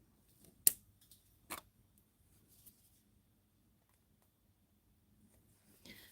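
Scissors snip wire or ribbon during Halloween floral wreath-making, giving two sharp, close cuts followed by faint handling rustles in a quiet room.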